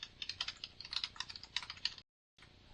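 Fast, uneven clatter of keys on a computer keyboard as code is typed, a close run of clicks that stops briefly, then resumes.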